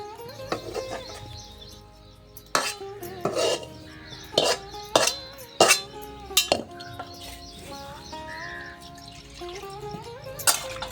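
A ladle scrapes and knocks against a kadhai, lifting out a dry mixed sabzi of raw mango and dried mango. Irregular metallic clinks and scrapes stand out loudly, with faint bird-like chirps in the background.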